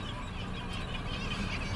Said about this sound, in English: they're kittiwakes